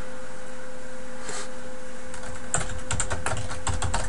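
Login details are typed on a computer keyboard in a short run of key clicks: a sparse tap early on, then a denser burst of close, crisp keystrokes in the second half over a faint steady hum, with no talking.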